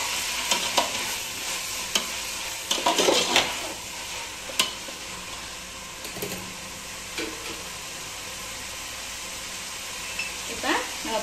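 Chopped tomatoes sauté in a hot pan for prawn biryani, giving a steady sizzle broken by repeated scrapes and clinks of a spoon stirring against the metal, close and moderately loud.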